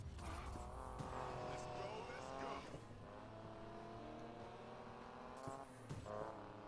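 Vehicle engine roaring in the racing game Need for Speed Payback, a loud continuous revving drone with shifting pitch and a few sharp bursts, apparently a truck, with no talk over it.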